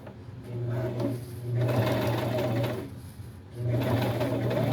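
A sewing machine stitching on its zigzag setting, running in three close, steady mechanical bursts separated by brief pauses, with a rhythmic whirring hum and no talk.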